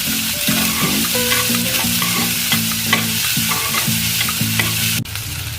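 Chopped onion and brinjal sizzle and fry in a pan for a Tamil brinjal roast, with a steady loud hiss throughout and a sharp knock near the end.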